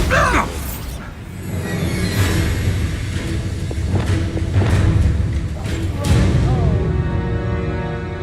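A Bombarda blasting spell goes off in Hogwarts Legacy amid other spell effects: a series of heavy thuds and bursts with crackling debris, fairly loud and close over a constant game backdrop.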